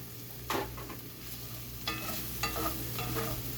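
Baby portobello mushrooms sizzle steadily in a hot pan, with a few sharp scrapes of stirring breaking through the constant frying hiss.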